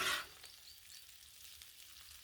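Crunchwrap filling sizzles faintly and steadily on a Blackstone griddle, opening with a brief louder scrape or hiss before a low, even frying crackle.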